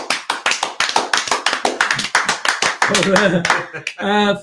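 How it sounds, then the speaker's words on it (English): One person claps sharply and rapidly on a live stream for a super chat donor, a close, crisp run of about twenty claps, followed by a voice speaking at the end. "Can we have a big Michael Bowers style clap for"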